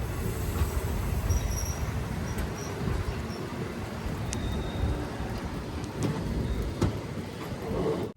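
A train runs on the Talguppa to Shivamogga line in Karnataka, giving a continuous, fairly loud rumble of wheels and carriages with faint squeals and clicks on top, and no talk.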